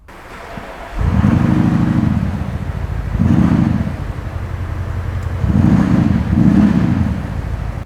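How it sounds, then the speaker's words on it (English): An ABT-tuned Audi SQ7 with a 4-litre V8 fires up and settles into a loud, deep idle, the engine note swelling in several surges over a steady low rumble, heard from inside the cabin. "we may as well just fire it up, let you guys have a listen to that 4 litre V8."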